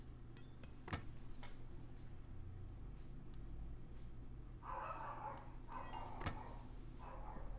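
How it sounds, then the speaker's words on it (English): A small dog named Emma yaps faintly in the background, with a few distant barks clustered near the end, under a low steady hum. "That's my little dog Emma, if you can hear it barking in the background"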